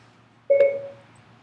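A single short two-tone iPhone Siri activation beep sounds clearly and close against near silence.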